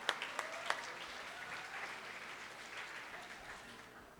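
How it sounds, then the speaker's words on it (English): An audience at a talk on racism applauds at a moderate distance, a dense clapping wash with a few sharp individual claps near the start that fades gradually. "Let's give a round of applause to Haymarket Books and wearemany.org."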